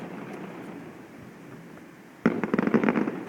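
Fireworks at a sea fireworks festival in Penghu: after steady background crowd noise, a loud burst breaks out, followed by a rapid string of crackling, popping explosions close together.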